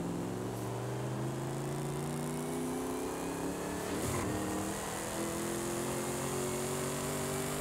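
A wagon muscle car in Forza Horizon 5 accelerates hard toward top speed, its loud engine droning steadily with rising harmonics and a brief gear-change dip midway, alone without talk.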